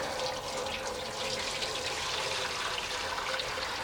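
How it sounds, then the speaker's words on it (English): Water pouring steadily into the enamel water tray of a BBQ smoker, a continuous close splashing rush that fills the whole stretch without pause. "Now my water tray needs some water."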